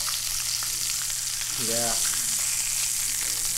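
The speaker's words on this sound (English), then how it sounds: "Hear that sizzle." Bacon sizzles and crackles steadily in a hot pan at a campsite, close by, while someone briefly speaks over it.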